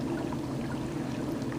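Dry ice churns in a sink full of water, a steady, dense bubbling and gurgling that runs on without a break.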